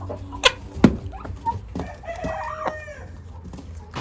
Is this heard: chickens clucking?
yes